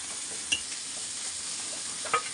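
Masala frying in oil in a pan, a steady bright hiss running throughout with a few brief stirring clinks and scrapes, close and moderately loud.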